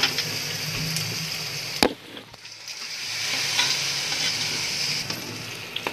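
Beef pieces fry and sizzle in hot korma masala with green cardamom while being stirred, a steady close crackling hiss with scraping stirs and one sharp knock partway through, no voices.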